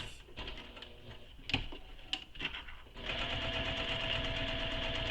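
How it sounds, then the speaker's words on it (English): A sewing machine stitches a box-and-X reinforcement on a quiver sling, a few short bursts and clicks giving way to a loud, steady run of stitching. "I'm going to sew a box with an X."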